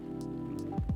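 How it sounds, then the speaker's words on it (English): Steady rain falling in the video game Coffee Talk, a soft continuous patter under a low background music drone, with a couple of short tonal blips near the end. "Plus, there's the rain."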